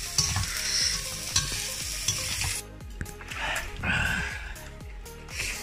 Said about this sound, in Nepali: हाम्रो भाउजूले भुट्दै हुनुहुन्छ